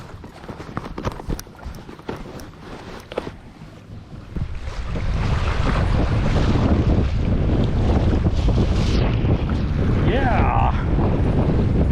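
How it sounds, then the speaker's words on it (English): Wind blowing on Table Rock Lake during kayak fishing, a strong steady roar buffeting the microphone that rises after the opening seconds, with a brief spoken word early on. "Might be a little windier than I thought"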